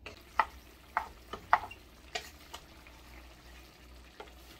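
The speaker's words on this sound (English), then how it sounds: "And now we're gonna let this simmer for about 15 minutes or so" Plant-based meat sauce for vegan baked ziti cooking in a pot, a soft bubbling sizzle with several spoon taps and stirring knocks against the rim, fairly quiet and close with no speech.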